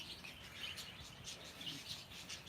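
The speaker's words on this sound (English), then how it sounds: "Got the lovebird there." A lovebird in Bury St Edmunds gives faint, repeated high chirps over a low, steady background hum, with no one talking.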